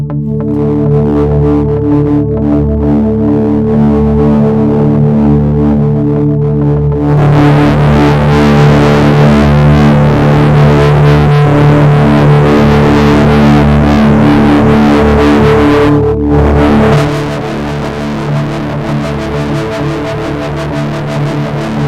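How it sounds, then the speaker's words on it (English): A sustained Prophet synthesizer chord overdriven through analog preamps, with a gritty, saturated distortion that thickens and brightens partway through, loud and continuous without any voices. "I can also use the preamps to create natural distortion if I overdrive them."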